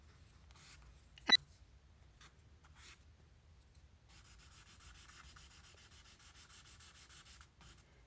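A drawing tool scratches across paper: a few short strokes come first, then a longer, continuous rasping stretch. It is soft, close and isolated in a quiet room.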